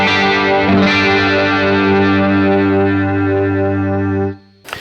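Electric guitar played through a worship pedal board with a heavy chorus effect and some distortion, a sustained shimmering chord ringing loud and steady for over four seconds before cutting off abruptly.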